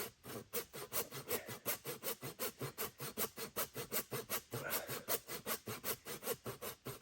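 A hand saw cuts through a log in steady, rhythmic back-and-forth strokes, each rasping pass close and even, with no talking.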